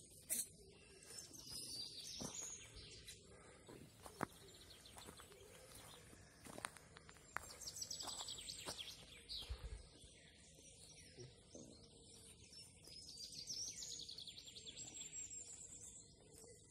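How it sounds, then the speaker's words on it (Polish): Birds chirp and sing in short high bursts outdoors, with pigeons cooing low underneath and a few soft footsteps or knocks scattered through. "Ptaszki śpiewają, gołąbki gruchają."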